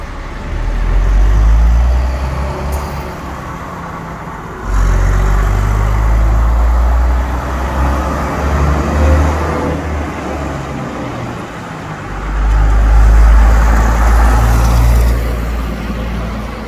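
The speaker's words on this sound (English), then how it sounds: "the deep powerful note of the engine note from the exhaust and the Gardner engine fleet liner" A Gardner-engined Fleetline bus pulls away at a bus museum in Glasgow with a deep, loud, rumbling exhaust note that surges and eases in waves, with no talk over it.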